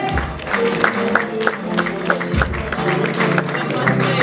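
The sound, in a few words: audience applause at an award ceremony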